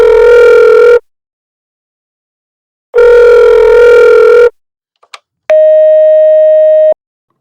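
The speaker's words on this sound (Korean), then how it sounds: "강씨 할머니는 아무리 전화를 해도 받지 않았고" An unanswered telephone call: the ringback tone sounds twice in long, loud bursts separated by silence, then two quick clicks and a steady single-pitched tone.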